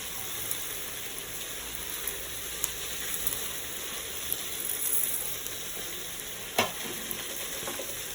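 Urad dal, chana dal, coriander seeds and dried chillies dry-roast in a pan with a soft, steady crackle and sizzle, broken by occasional light scrapes of stirring. It is quiet and even throughout.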